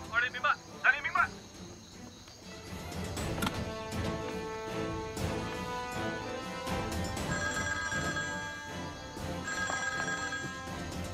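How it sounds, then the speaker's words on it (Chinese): A telephone rings briefly at a brigade command post during a military exercise, a trilling burst at the start, before dense, steady background noise takes over. "参谋长，旅长电话。"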